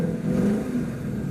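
2015 Ford Mustang V8 with a manual gearbox, its engine rumbling loud and close in a brief deep burst that swells and settles.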